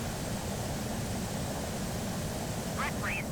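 An airplane in Microsoft Flight Simulator drones steadily with a constant broadband engine and wind noise, while a voice speaks briefly near the end.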